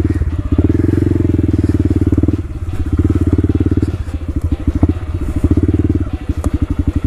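A Honda Grom motorcycle engine runs loud and close, its single-cylinder pulse rising and falling in several throttle surges with brief dips between them.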